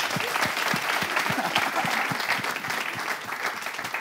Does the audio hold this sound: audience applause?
yes